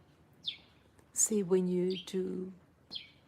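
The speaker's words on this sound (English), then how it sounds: "To me, hearing the birds sing." Brief high bird chirps come and go, faint and somewhat distant, while a person speaks over them.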